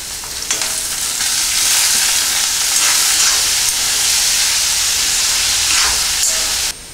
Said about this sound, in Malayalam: ഇനി അതിലേക്ക് നമുക്ക് അരിഞ്ഞു വെച്ചിരിക്കുന്ന 3 സവോള ചേർത്ത് നന്നായി വഴറ്റിയെടുക്കാം.